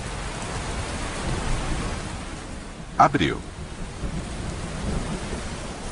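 Steady, loud heavy rain pours in the Amazon rainforest, and a sharp crack of thunder bursts midway before the downpour carries on. A voice speaks briefly over the storm.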